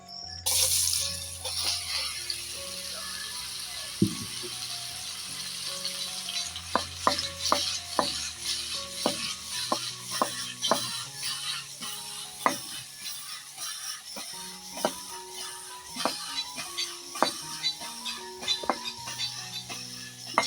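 Mushrooms fry in ghee in a pot while being stirred, with a soft continuous sizzle under repeated scraping and clinking of a spoon against the metal, close and fairly quiet, with no talking.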